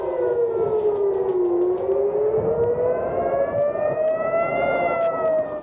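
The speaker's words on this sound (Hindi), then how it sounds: "तल अबीब में सायरन बज गए।" Air raid sirens wail across Tel Aviv, a loud sustained tone that dips, then slowly rises again, with several layered sirens droning together and a rumble of background noise underneath.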